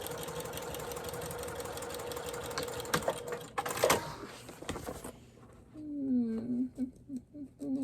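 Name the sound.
sewing machine back stitching over a makeup bag seam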